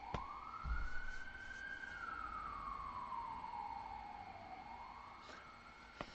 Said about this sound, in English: here comes the police cars just rolling by my street